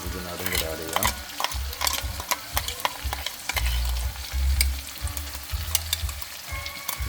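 Onion sautéing with green chili and ginger paste for Kerala-style chicken curry, a steady sizzle in a pan broken by repeated scraping stirs of a spoon, close and continuous with no talking.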